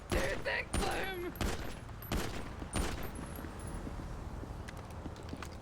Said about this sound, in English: I shot through the window!